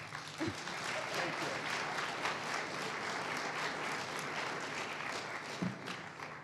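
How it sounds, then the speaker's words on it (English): Dense, steady applause fills a room for a river boatman at a Grand Canyon gathering, a broad even roar of many hands at a distance, with a couple of faint voices breaking through. "Give him a round of applause, guys"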